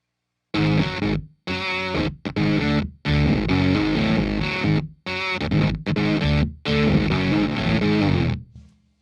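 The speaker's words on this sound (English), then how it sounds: "Like 2 bars of the riff with the distortion, everything, exactly like you play it on the record." A distorted electric guitar riff captured on an SM7 microphone, two bars of loud chugging chord hits broken by short rhythmic gaps, played alone and close.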